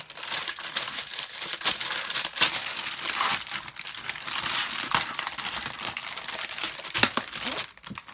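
Close, loud crinkling and tearing of plastic and paper wrapping as a Warhammer Imperium magazine subscription package is opened, with rapid rustles and sharp rips throughout, no voices.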